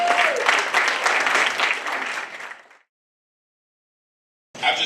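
A comedy show audience applauds and cheers for the host, loud and dense at first, then fading out into silence before a second burst of applause starts.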